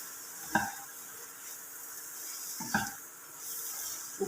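Biryani masala is stirred in a pan, two distinct scraping strokes of a spoon against the metal over a faint background sizzle, close and quiet.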